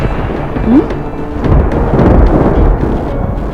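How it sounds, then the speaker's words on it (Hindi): Loud, deep thunder rolls and rumbles continuously before the rain, a heavy low roar swelling in the middle of the stretch. "लगता है बारिश होने वाली है।"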